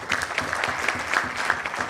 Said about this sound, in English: we don't need to be shy about the claps